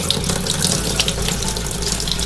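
Aquarium water from a 180-gallon South American cichlid tank is pumped through a hose, rushing and gushing steadily and loudly without pause, close by with no talking.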